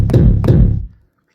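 Two close drum hits, a punchy low thump with a snappy top, played on an Akai MPC XL before analog-style processing, loud and alone, ringing out briefly then cutting to silence.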